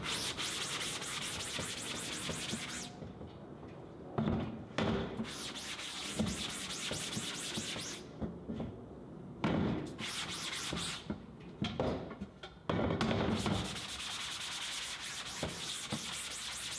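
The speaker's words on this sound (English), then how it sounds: "we're going to scrub both sides." Scrubbing both sides of a screen with a brush: continuous rubbing strokes, close and steady, with brief pauses between bursts.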